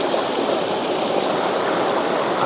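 Yorkshire waterfall water rushing in a steady, dense, loud hiss and roar, unbroken throughout and close to the listener, with no voices.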